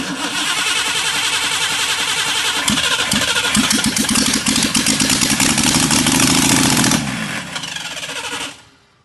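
A 1957 Borgward Isabella engine running loud and close, a rough rapid chugging roar with uneven firing pulses that holds steady for several seconds, then drops away sharply near the end.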